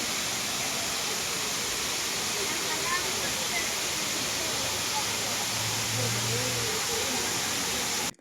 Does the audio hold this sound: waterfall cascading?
yes